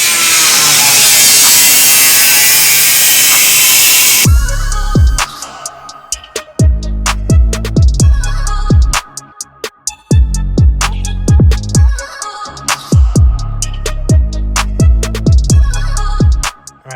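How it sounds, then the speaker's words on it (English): A power tool cuts through car body panels in repeated bursts, loud and close, with rasping, grinding strokes separated by short pauses after a stretch of continuous harsh whine at the start. "So let's go ahead and start cutting."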